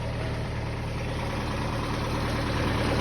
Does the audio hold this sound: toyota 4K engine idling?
yes